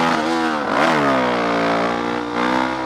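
A motorcycle engine with a newly fitted exhaust gasket revs up close and loud, climbs sharply in one burst, then eases into a strong, steady drone.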